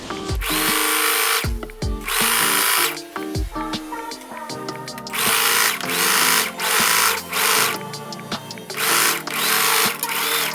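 A sewing machine stitches the ends of a maxi dress skirt together in short, loud whirring bursts broken by brief pauses and fabric handling.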